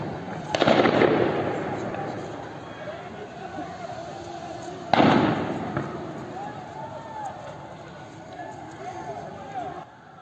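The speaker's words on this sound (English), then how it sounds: "all of this gunfire is coming from the regime toward the civilian populace" Two sharp gunshot reports ring out in footage from Iran, each a loud crack with a trailing echo, spaced several seconds apart over a continuous murmur of background noise and voices.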